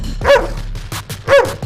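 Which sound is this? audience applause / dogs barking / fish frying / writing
dogs barking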